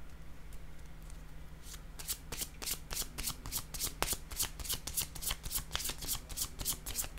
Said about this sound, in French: Attendez, je vais déposer une carte pour elle.